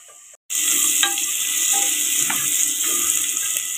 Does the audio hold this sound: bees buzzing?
no